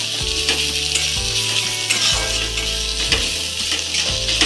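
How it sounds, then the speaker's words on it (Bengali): Onions frying in a pan for a mustard pabda fish dish crackle in a loud continuous sizzle, with periodic stirring scrapes and a low tonal hum beneath; nobody speaks. "পেঁয়াজটা একটু নেড়ে নিলাম"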